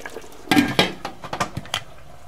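Metal pot and lid clatter while covering a pot of meat korma set to cook on a low flame; a few sharp clanks and scrapes come up close, then lighter taps, with no talking.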